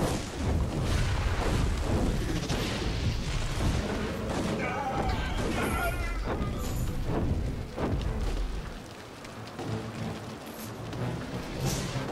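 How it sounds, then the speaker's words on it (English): Machine gun fire rattles in the Dungeon Siege 3 video game, dense bursts mixed with booming explosions and battle noise, loud and continuous before easing slightly toward the end, with voices talking over the action. "后面有人在放机枪。"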